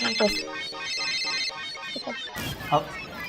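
A phone ringtone plays a bright, repeating electronic melody up close, continuing for a few seconds as brief voice sounds break in near the end.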